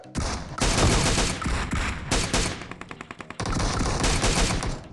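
Rapid automatic gunfire in a video game, loud bursts with a short string of single shots in the middle, no talking.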